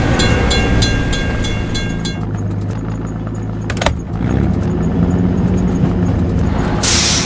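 A video game train rumbles steadily past a level crossing while a crossing bell rings at first, followed by a sharp clank and continued rolling noise, in a game-like mix.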